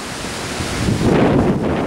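Gusty outdoor wind rushes loudly across the microphone on a sunny, windy day, a brief continuous roar that swells slightly midway.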